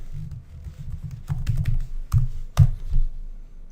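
Fingers typing a password on a computer keyboard, a short run of soft, uneven keystrokes with a few sharper key hits near the end, close and fairly quiet with no talk.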